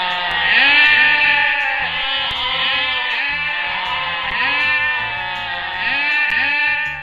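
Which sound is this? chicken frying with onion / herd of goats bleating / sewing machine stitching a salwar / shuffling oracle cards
herd of goats bleating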